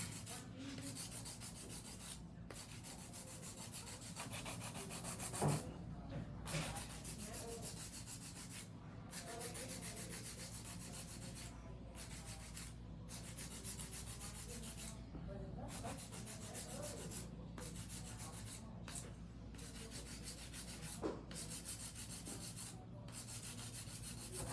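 A hand file rubbing over an acrylic nail refill in quick circular strokes, giving a steady, close, dry scratching that runs continuously with brief pauses between passes.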